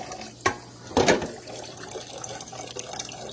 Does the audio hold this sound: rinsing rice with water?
yes